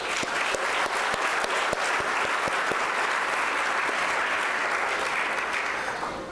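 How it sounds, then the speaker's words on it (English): Sustained applause from a luncheon audience honoring Boston Public Schools valedictorians, dense continuous clapping from a large room with a few sharper claps standing out, no speech. "I give you a round of applause"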